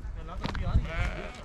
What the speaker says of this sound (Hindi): ये भेड़ बकरियां यहाँ पे चल रही